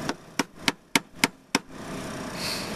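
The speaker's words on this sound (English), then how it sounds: "My favorite tool is the hammer. I wonder if it'll go faster if I tap it even more." A hammer strikes the blower motor of a 1991 Ford F250 six times in a quick, even series of sharp metallic taps, close and loud, followed by a steady motor whir.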